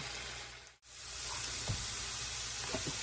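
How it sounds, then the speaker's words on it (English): A pound of hamburger meat browns in a pan with a steady, broad sizzle that runs throughout, broken only by one brief dip near the start, while a few soft clicks of stirring sound close by. "I'm going to get this pound of hamburger meat browned up"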